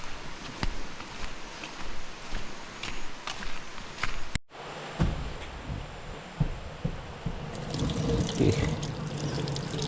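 Water running from a sink tap at a campsite, fed with river water, a steady broadband splash and hiss that cuts briefly then resumes with scattered splashes as the stream hits the basin.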